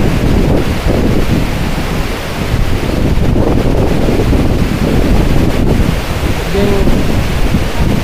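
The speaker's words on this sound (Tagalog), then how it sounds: "Ang lakas ng bagsak ng water, mas malakas pa siya kaysa dun sa Tandag City na falls" Strong waterfall at Green Falls in Tago, Surigao del Sur, with heavy water crashing down in a loud, continuous rush and gusts of wind buffeting the microphone throughout.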